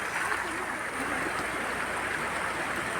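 Water flowing down from Jalagamparai Falls near a Murugan temple, heard as a close, continuous rushing stream with an even hiss and no pauses.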